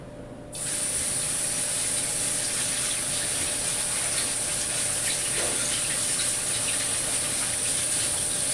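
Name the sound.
chickpeas being rinsed under running tap water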